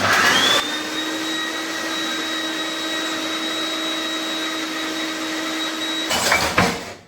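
A mixer grinder blending cooked beetroot whirs steadily at close range, a constant motor drone with a high whine, ending in a brief clatter as it stops.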